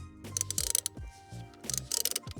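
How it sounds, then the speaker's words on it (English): A wrench with an extension and T30 bit working a steering wheel bolt on a Toyota Tacoma, quick clusters of ratcheting clicks in two bursts with short pauses between, close and clear. "you're gonna get your wrench with the extension and the T30 attachment, and you're gonna put it up into here and loosen this bolt"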